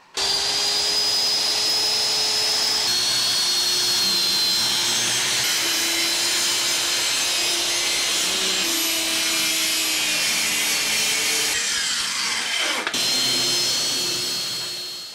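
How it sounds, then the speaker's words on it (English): A power saw cuts through old marine grade plywood with a loud, continuous whining drone that holds steady and then dips in pitch near the end as the cut finishes. "All right, let's get the saw out."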